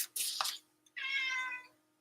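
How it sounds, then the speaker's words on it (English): A house cat meows twice up close, a short high call followed by a longer drawn-out meow, clear and alone against a quiet room. "What do you want, kitty?"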